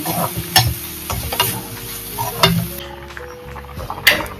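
Cooked greens with grated coconut being stirred in a pan on a gas stove, a spoon scraping and clinking against the metal over a steady soft sizzle, with a few louder knocks.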